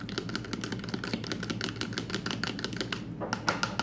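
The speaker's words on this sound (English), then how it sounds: "Just whisk it" Butter, vanilla and a room-temperature egg are whisked in a bowl for sugar cookies, a fast, steady clicking patter of the whisk against the bowl, close and continuous.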